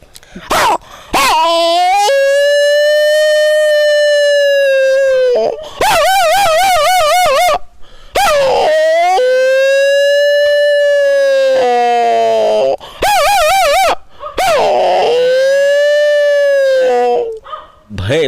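A man imitates a dog howling at night: long, drawn-out, wavering howls repeated several times, loud and close, broken by short yips and whimpers between them.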